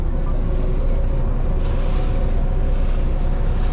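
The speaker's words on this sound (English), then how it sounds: "we're going to be slowly now sailing up the East River" Loud, constant rushing of wind and water against a boat moving slowly up New York's East River, with a steady engine-like rumble underneath and no voices.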